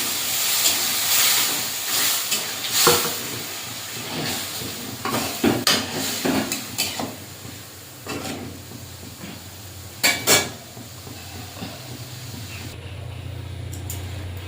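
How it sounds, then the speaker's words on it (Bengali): A little water poured into kochu lati cooking in a pan with mustard paste, a loud hissing sizzle with bursts and crackles that rise and fall, then settle into a steadier simmer. "এবারে অল্প একটু জল দিয়ে দেবো।"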